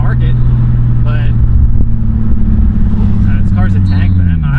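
Steady loud exhaust drone of a modified Nissan 350Z heard from the cabin while cruising, engine note dipping slightly near the end, with someone speaking over the rumble.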